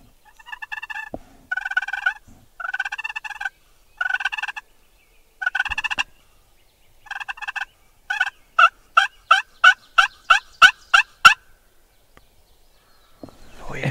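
Wild turkey gobbling within about 100 yards during a spring hunt, a series of loud rattling gobbles, first in slower spaced bursts, then a rapid run of sharp calls, with no talk over it.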